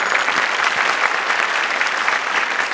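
Sustained audience applause at an innovation awards event, many people clapping steadily and loudly throughout, with no talk over it.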